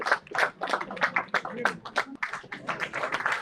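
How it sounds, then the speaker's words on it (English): An audience at an awards ceremony claps in scattered, uneven bursts, fairly close, while a voice talks over the applause throughout. "Big round of applause, ladies and gentlemen. Let's keep it going."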